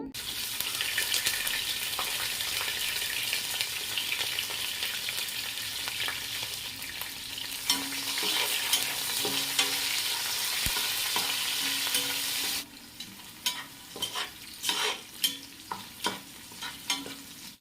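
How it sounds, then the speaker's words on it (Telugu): Onions and slit green chilies for bagara rice frying in a pan, a steady dense sizzle with occasional stirring scrapes, switching late to sparser clattering stirs and taps. "ఇంకా నిలువుగా కట్ చేసుకున్నటువంటి పచ్చిమిర్చి కూడా వేసేసాను"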